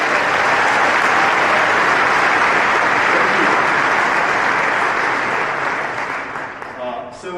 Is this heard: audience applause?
yes